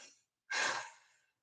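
A voice imitates a shallow chest breath, a quick, sharp, loud inhalation that trails off into a breathy fade, preceded by a softer exhale.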